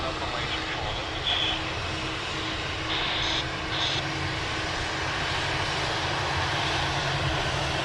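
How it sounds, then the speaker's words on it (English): Airliner taxiing at Sydney Airport toward runway 34 left: a steady, loud engine roar and broadband rumble that holds evenly throughout, heard from an outdoor spotting position with a few faint higher tones over it. "He's taxiing down to 34 left now, so we might get to see another takeoff"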